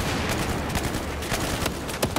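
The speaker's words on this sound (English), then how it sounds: "I'm taking heavy fire!" Heavy gunfire in Battlefield 4 comes as a dense, loud fusillade of overlapping shots and bursts in rapid rhythm, crowding the whole moment.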